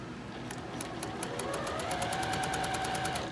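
A sewing machine back stitches along quilt binding, a close, steady mechanical whir with rapid rhythmic needle ticks that speed up slightly as it runs continuously.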